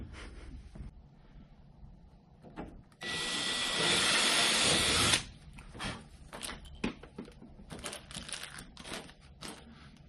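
A power drill bores through a car hood for louvre vents, a loud steady whine lasting about two seconds, surrounded by quieter taps and handling clatter from the workpiece.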